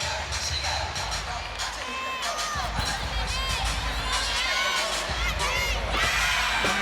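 Crowd in a college gymnastics arena cheering during a Kentucky at Florida meet, a loud sustained roar of voices and whoops swelling in waves, with an announcer talking over it.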